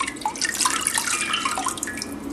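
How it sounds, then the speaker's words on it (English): Goat milk poured over a slotted spoon into a pot while making cheddar cheese, a steady close splashing, trickling stream that runs continuously without pause. "we're going to pour it over the slotted spoon here"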